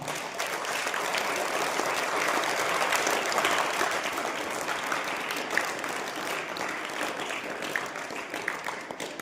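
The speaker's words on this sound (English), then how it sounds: "Please give them a big round of applause." Sustained applause from an audience at a school English speech competition, a dense wash of many hands clapping throughout without pause.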